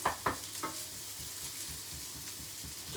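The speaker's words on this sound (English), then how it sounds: "We're just going to fry this courgette and this onion" Courgette and onion fry in a pan for a green chicken noodle stir-fry, giving a soft, steady sizzle with a few brief stirring clatters near the start.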